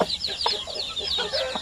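Zampen, basilan and shamo aseel chickens cluck close by in a quick series of short, bright calls that overlap and repeat.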